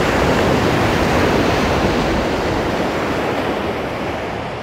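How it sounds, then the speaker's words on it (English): Rough sea waves crash and wash onto a resort beach, a loud continuous roar of surf with some wind buffeting, easing slightly toward the end. "The water isn't usually this rough."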